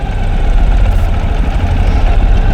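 A 2013 Ural Adventure Patrol sidecar motorcycle engine runs steadily while being shifted through first and second gear, producing a loud, close, low continuous rumble with no voices.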